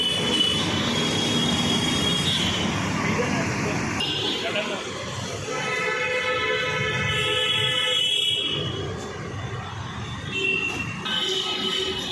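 A Mumbai metro train between Malad and D N Nagar rumbles steadily along the rails with high metallic squeals and tonal whines rising and fading, while people talk faintly underneath.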